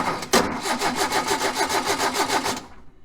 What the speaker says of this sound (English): And we get good crank.